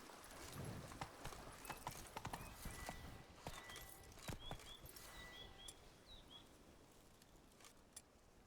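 Roach, a horse in The Witcher 3: Wild Hunt, clip-clops along in an even hoofbeat rhythm at moderate volume, with faint bird chirps in the background.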